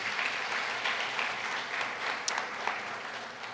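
A church congregation claps together during a communion service, a steady moderate wash of applause with a few sharper claps standing out near the end.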